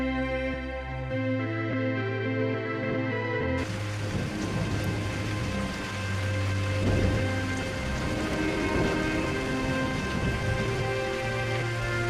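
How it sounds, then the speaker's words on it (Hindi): Heavy torrential rain pours down in a dense, steady hiss, with low rumbling and a droning musical tone underneath. "कितनी मूसलाधार बारिश हो रही है।"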